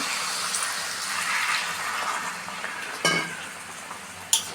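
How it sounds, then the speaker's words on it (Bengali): A little water poured into a pan of potato, pointed gourd and drumstick vegetable curry, bringing a loud hiss and sizzle with stirring, then a sharp splash-burst and a short clink near the end. "অল্প একটু জল দিয়ে দিব আমি দিয়ে দিচ্ছি অল্প একটু জল"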